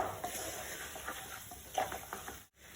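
A spoon stirs chicken masala for Kerala-style chicken rice in a pan, giving soft scraping and clinking over a low sizzle, with brief louder scrapes and a short gap near the end.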